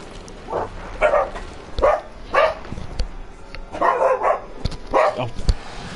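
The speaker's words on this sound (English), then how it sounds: "Oh, forgive my dogs." Two dogs bark indoors, close and loud, each bark short and sharp and coming every second or so with small gaps, and a few softer yips mixed in.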